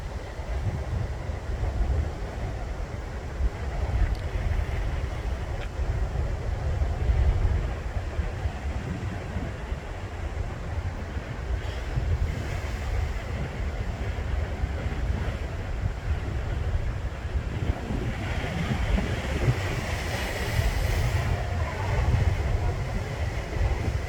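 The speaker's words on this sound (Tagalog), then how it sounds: "Yan ang alon o. Tingnan mo." Strong sea waves surge and crash at Canhugas Nature Park, a steady loud roar of surf mixed with wind buffeting the microphone throughout, swelling slightly near the end.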